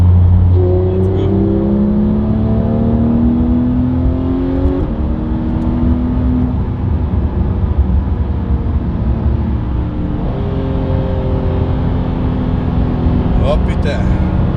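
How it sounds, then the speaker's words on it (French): A Porsche 911 GT3 engine revs hard under acceleration, its loud, rising note climbing through two long pulls separated by a gear change, heard from close up while driving. "c'est une vraie voiture de course"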